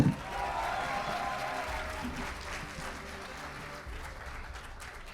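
A university audience at a debate event applauds a speaker, a soft, distant, steady patter of many hands that fades slightly toward the end.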